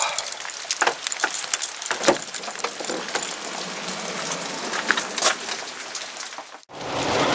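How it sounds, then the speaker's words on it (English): Dense, hissing patter of heavy pouring rain at a campsite in Skihist Provincial Park, with scattered sharper drops and knocks, continuous throughout, ending in a brief dropout before resuming. "It's pouring rain."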